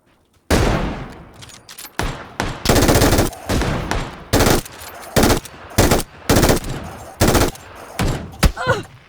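Loud automatic gunfire in PUBG, repeated sharp bursts of shots separated by brief gaps, close and dominant throughout, with a faint voice near the end.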